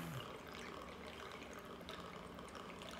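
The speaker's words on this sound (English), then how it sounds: "Some orange juice on top of that." Orange juice pours steadily into a screwdriver cocktail already holding pineapple juice, a continuous liquid trickle and fill running for a few seconds at moderate level, with no talking over it.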